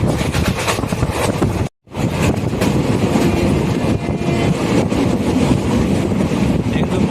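Loud, continuous rumble of a train running on rails between Trichy Junction and Tambaram, India, with rhythmic rattling and wind noise, interrupted by a brief cut to silence.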